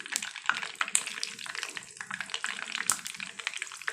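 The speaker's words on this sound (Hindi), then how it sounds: "अब इसमें हम चिकन डालेंगे और इसको फ्राई कर लेंगे अच्छे तरीके से।" Breaded chicken pieces frying in hot oil over a medium flame, a steady close sizzle and crackle with small pops throughout.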